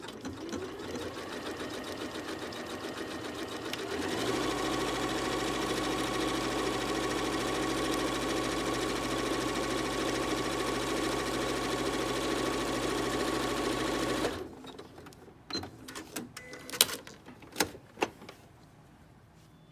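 A sewing machine runs steadily for about ten seconds stitching a multiple zigzag seam finish along the edge of the seam allowance, a loud continuous motor whir, then stops and gives way to a few scattered handling clicks and taps.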